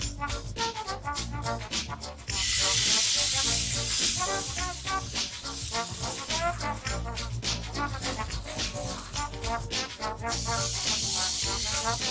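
Oats and wheat pancake batter sizzles in an oiled pan, a steady bright hiss rising under ongoing background music and swelling again near the end.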